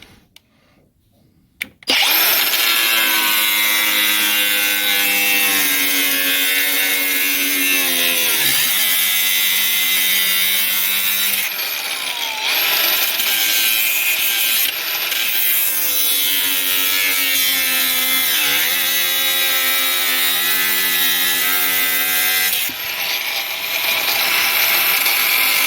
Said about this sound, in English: Okay, we drilled some holes, so let's get cutting.